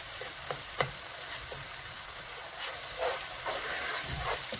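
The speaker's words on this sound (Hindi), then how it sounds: "अब मैं इसमें लहसुन और अदरक डाल रही हूँ।" Garlic and ginger fry in a pan with onions for a chicken curry, giving a continuous hiss and sizzle broken by occasional sharper pops and stirring scrapes, close and steady without speech.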